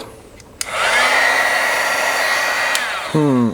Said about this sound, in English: This might be where I need the heat gun just to get it to set up.